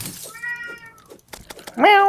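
A cat meows close by, first a drawn-out cry and then a louder, rising meow, with brief human sounds and clicks in between.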